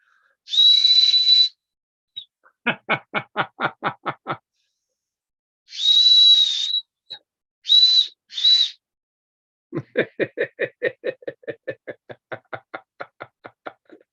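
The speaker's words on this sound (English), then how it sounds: "Now, isn't that a unique looking whistle?" A one-of-a-kind novelty whistle is blown in several bursts, alternating steady shrill tones with rapid warbling trills, close and loud, with no talking.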